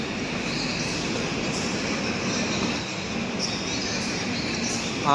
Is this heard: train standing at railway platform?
yes